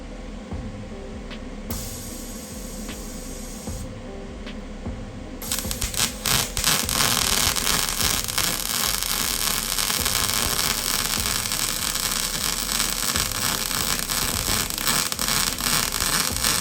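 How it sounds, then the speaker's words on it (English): Welding on a Mazda B2200 truck bed floor, a steady crackling, hissing buzz that starts after a few seconds of quieter background and then continues loud and unbroken. "you have to weld it all the way around"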